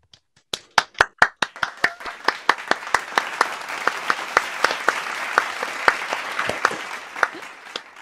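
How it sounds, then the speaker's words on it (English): Audience applause for the artists of a virtual clarinet concert: a few separate, sharp claps quickly thicken into steady, close clapping from several people, with distinct hand strikes still standing out. "let's give them a round of applause"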